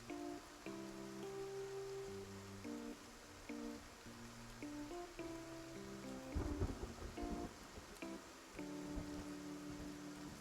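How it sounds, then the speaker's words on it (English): Rain falls steadily with a soft rumble of thunder during a quiet scene in the video game Love and Deepspace, faint and distant beneath a gentle tonal game soundtrack. "If the thunder's loud tonight"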